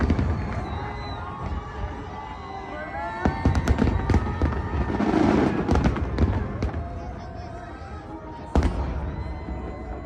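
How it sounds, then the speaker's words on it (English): Fireworks show at the Thunder festival, with repeated booming and crackling bursts over a loud, cheering crowd whose shouts and chatter fill the space between explosions. "They had so many going off that the cloud of smoke almost drowned out the actual fireworks"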